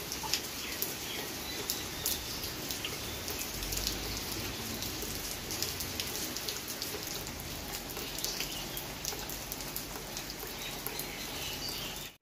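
Heavy rain pours steadily outdoors, a dense continuous hiss of drops on surfaces with no pauses, with faint birds now and then in the background.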